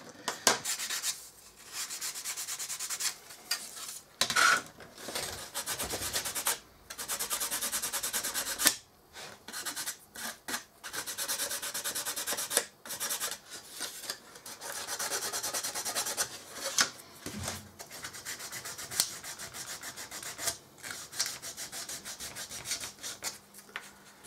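Steady rasping strokes of a file working parts for an L-1011 airliner scale model, repeated rubbing bursts with brief pauses, close and fairly quiet with no talk.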